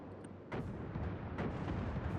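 A torpedo strikes a ship in the naval combat game World of Warships: Legends, landing as a sudden heavy blast that rolls into a sustained rumbling explosion over the game's steady background din.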